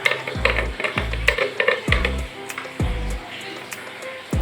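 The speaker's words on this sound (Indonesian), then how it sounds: "Kita aduk-aduk terlebih dahulu biar semua tercampur rata ya" A spoon stirring blended spices into coconut milk in a pan on an unlit stove for Minang-style gulai chicken, with several distinct scraping and clanking strokes in an irregular rhythm, close and fairly loud.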